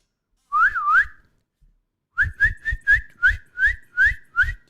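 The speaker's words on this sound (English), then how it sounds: "Did I whistle?" Person whistling: two quick sliding notes, a pause, then a run of eight short, sharp whistled chirps in an even rhythm, close and clear.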